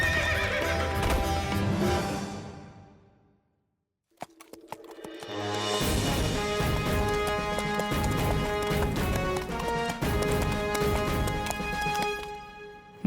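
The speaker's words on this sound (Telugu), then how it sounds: "అన్నయ్య దుర్యోధన, నకుల గుర్రం నడవడానికి కష్టపడినప్పుడు ఇప్పుడు ఎలా పరిగెడుతోంది?" A cartoon horse whinnies loudly and gallops with steady clip-clop hooves over a music bed, a short pause near the middle, then renewed neighing and running that carries on to the end.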